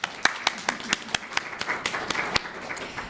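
An audience claps at a research update talk, with sharp distinct hand claps in an uneven, thinning rhythm, close and fairly loud, fading toward the end.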